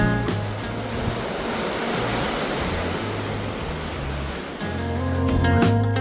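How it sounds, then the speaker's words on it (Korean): Ocean waves surge and break on the rocky shore at Yeongeumjeong, a broad, continuous roar of surf that swells and recedes, loud and close, with no voices. "영금정의 파도는"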